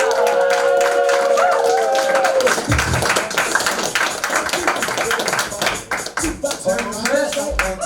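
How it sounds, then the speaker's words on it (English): A comedy club crowd claps to welcome a stand-up comedian, with loud, close, irregular clapping over walk-on music that drops away partway through, plus a few low thumps. "So please give a nice warm round of applause for Christian Wienker"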